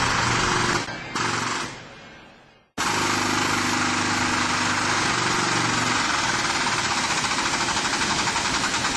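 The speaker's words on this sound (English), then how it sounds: "Turning the fitting 45 degrees each time, swedge the fitting, letting the die close completely at least 3 more times." A hydraulic cable swager crimps a stainless cable rail fitting, its pump droning loudly and steadily, cutting out abruptly once before restarting and running on with a rough, even hum.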